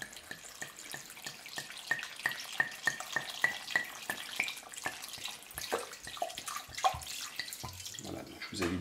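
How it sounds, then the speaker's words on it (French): Dry white wine trickles and splashes steadily onto marinating beef for a terrine, a faint, close pour with small irregular drips and no talking. "vous venez maintenant couvrir avec le vin blanc sec"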